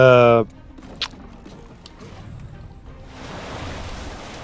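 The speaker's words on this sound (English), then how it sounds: "the water's rising. Repeat, the water's rising." Rising black water in a video game: a steady broadband wash of rushing, surging water that swells louder toward the end, after a brief loud tonal burst at the start.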